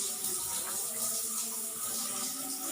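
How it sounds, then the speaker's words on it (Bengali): Water runs steadily from a tap or spout in a home kitchen, a faint continuous hiss and splash with no talking. "দেখেন না কিভাবে ঝর্ণাটা ছেড়ে দিয়েছে।"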